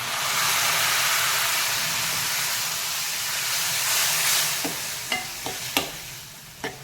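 Karonda (vakaya) pieces fry in oil with chili powder and garlic, a steady close sizzle and hiss with a few sharp pops and spatters near the end, no talking.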